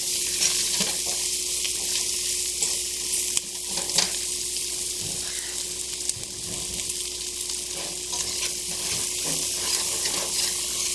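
Mustard and collard greens cook with onions and garlic in a pan, giving a steady close sizzle with occasional stirring scrapes, continuous for the whole stretch and with no talk.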